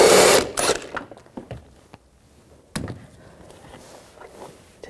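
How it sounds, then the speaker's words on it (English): A 16mm socket backs out a suspension bolt on the front rearward upper control arm of a 2004-2009 Audi A4 Quattro: a loud burst of close tool noise at the start, then scattered sharp metallic clicks and knocks, with no talking. "Using a 16mm socket, take the bolt out"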